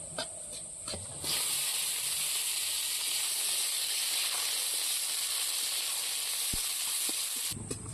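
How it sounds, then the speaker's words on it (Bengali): Onions hitting hot oil with garlic and chillies already fried in it, breaking into a loud, steady hiss that runs nearly the whole time after a few soft clinks at the start. "পেঁয়াজটা দিয়ে দেবো এর মধ্যে।"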